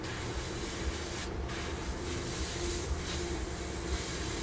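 An airbrush sprays insignia white paint onto a 1/144 Academy B-1B Lancer model, giving a steady, soft, close hiss that runs unbroken for several seconds with faint background noise and no voices.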